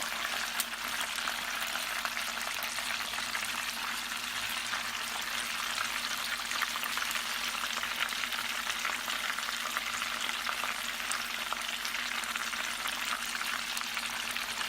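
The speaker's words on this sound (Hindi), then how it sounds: "इसे लगभग 5 से 7 मिनट के लिए फ्राई करेंगे।" Chicken popcorn pieces deep frying in oil, a continuous dense bubbling sizzle, close and steady for the whole stretch with no talking.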